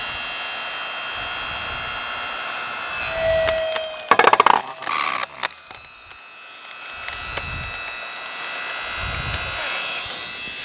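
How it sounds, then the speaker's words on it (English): A partly dry firewood log is chipped at until it splits. Rough woody rasping and a cluster of sharp splintering cracks sound near and loud over a steady background drone. "just keep chipping away at it till it splits it"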